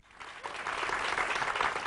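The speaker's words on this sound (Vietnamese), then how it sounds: "Chúng ta hãy dành một tràng vỗ tay cho nhạc sĩ Phú Quang ạ." An audience applauds composer Phú Quang at an interview event, a dense, steady wash of clapping that swells after a brief start and holds loud throughout.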